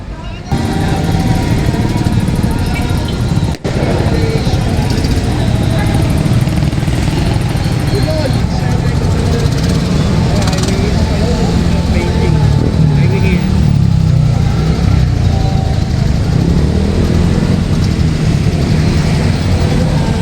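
Loud, steady boat engines drone throughout at a river fluvial procession in Mandaluyong, a continuous motor roar close by with faint voices blending into the noise.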